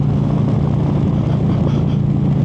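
A Harley Davidson Road Glide motorcycle rumbles along on a cold December ride in North Carolina, a steady deep exhaust drone mixed with wind noise, loud and continuous.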